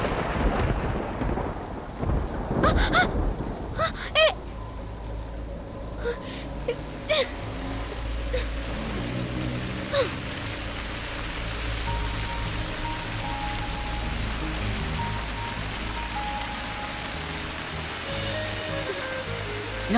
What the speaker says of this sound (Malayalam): ഇന്ന് ഇനി മഴയ്ക്ക് പെയ്യണമായിരുന്നോ?